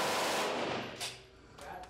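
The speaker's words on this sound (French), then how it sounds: "That's a Glock 18." Rapid bursts of automatic fire from a Glock 18 pistol on a shooting range, loud and close, dense at the start and trailing into a couple of sharper shots with brief pauses between.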